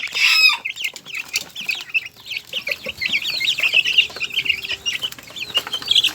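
Chickens and young chicks in a small backyard coop cluck and cheep nearby, with a loud squawk at the start followed by a busy, overlapping chorus of peeping and clucking calls.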